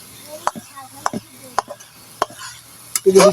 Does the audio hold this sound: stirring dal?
yes